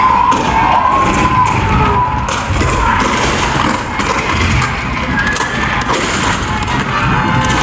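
Booming cannon fire in a theme-park presidential attraction show, loud thuds over a dense, steady roar with faint crowd-like noise and no talk.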